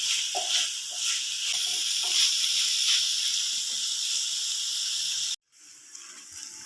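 Sliced onions sautéing with salt in a hot pan for a quail egg roast give off a steady, close hiss and sizzle that runs evenly, then cuts off briefly before resuming more quietly.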